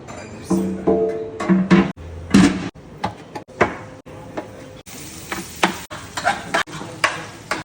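Kayseri kavurma meat cooking in a pan with tail fat, heard as a series of loud close scrapes and clanks from stirring, separated by short gaps, over a soft sizzle.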